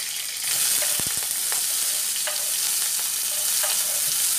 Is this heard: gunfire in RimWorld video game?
no